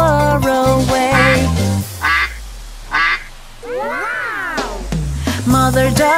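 A cartoon duck voice quacks in a sung children's nursery rhyme about little ducks, several loud, clear quacks standing out between the melody and singing.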